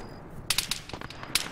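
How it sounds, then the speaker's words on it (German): Gunfire in the ARMA 3 video game: several sharp, cracking shots spaced irregularly over a steady background hiss, fairly close and loud. "Wird geschossen."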